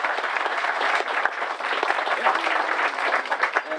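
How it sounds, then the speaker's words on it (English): Audience applause for volunteers, vendors and the board at a farm-to-table growers' panel event, a steady, dense wash of many hands clapping continuously throughout. "let's just give all those people a round of applause"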